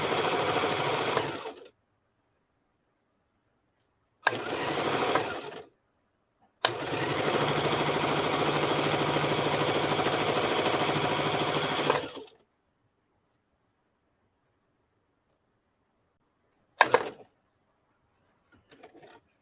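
A sewing machine stitching fabric runs in bursts: two short runs, a longer steady whir of about five seconds, then a brief final burst, each loud and close with quiet gaps between.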